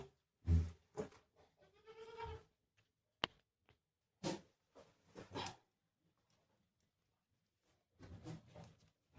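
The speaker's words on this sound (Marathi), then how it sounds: "शेळ्यांची पिल्लं ठेवतात छोटी छोटी," Young goat kids bleat inside a shed in several short, close, wavering cries separated by quiet gaps.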